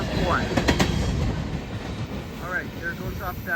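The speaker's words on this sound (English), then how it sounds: "there goes off that Union Pacific LOA11 bound train" Union Pacific LOA11 freight train hauled by engines #1068 and #1064 rumbling past nearby, a steady broadband roar with wheel clatter and faint squeals throughout.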